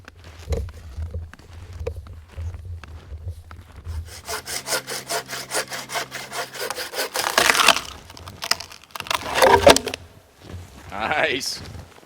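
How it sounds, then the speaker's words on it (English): A hand saw cuts through a wood log at a winter campsite with rapid rhythmic rasping strokes, close and loud, with voices talking around the sawing. "if you want to start sawing another one"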